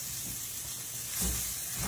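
Peppers sauté in a hot pan for breakfast muffins, giving a soft, steady sizzle and hiss, faint and close, with a slight swell partway through.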